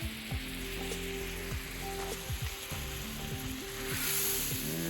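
Half a stick of butter sizzling and browning on a hot plow disc, a soft continuous frying hiss that swells slightly toward the end, fairly quiet, with no voices over it.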